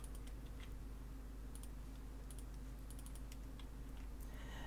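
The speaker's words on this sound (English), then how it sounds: "we open the terminal, and let's type the first command" Someone types a command into a computer terminal, producing soft, irregular keyboard clicks in quick bursts against a quiet background hiss. No one speaks.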